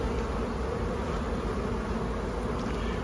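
Honey bees buzz in a hive around honeycomb and brood. The dense, steady hum of many insects holds without break throughout.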